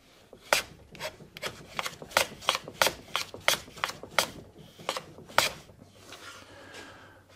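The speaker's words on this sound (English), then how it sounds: "So I'm going to cut both pieces." Wood pieces being cut with a hand plane on a shooting board fitted with a donkey's ear, about a dozen crisp rasping strokes in a steady rhythm, close and clear, then a softer scrape at the end.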